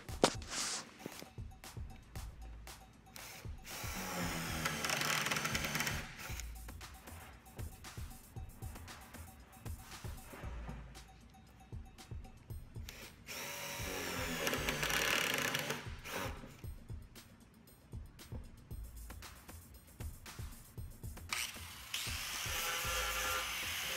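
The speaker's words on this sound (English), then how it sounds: "snappy drill bit with the countersink on it and go ahead and put the set screw holes that will attach it to the climbing wall" Power drill fitted with a countersink bit boring set screw holes around the perimeter of a Penta-volume climbing wall hold, in repeated loud whirring bursts separated by brief pauses.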